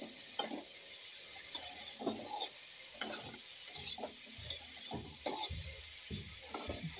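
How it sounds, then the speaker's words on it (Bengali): Stirring and frying in a pan with turmeric and salt, spatula scraping in repeated short strokes over a soft steady sizzle, close and moderately quiet. "এবার ভালো করে নেড়ে চেড়ে হলুদ লবণটা মিশিয়ে দেব এবং একটু ভাজা ভাজা করে নেব"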